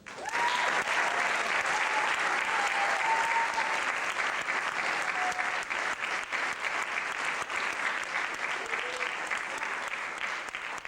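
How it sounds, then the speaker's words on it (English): Sustained applause from an audience at a school basketball awards ceremony held on a stage, a dense, steady roar of clapping continuing at even loudness throughout with a few faint voices mixed in. "I want to give a special round of applause"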